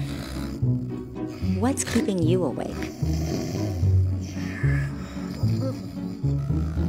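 A person snoring in a bedroom, deep rasping rumbles repeating in a slow rhythm while a voice talks over them.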